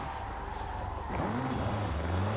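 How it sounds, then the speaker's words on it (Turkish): A car engine in Forza Horizon 5 bogs down, its low drone sagging and wavering in pitch as tires scrub, loud and close with no talk. "Araba biraz boğuldu."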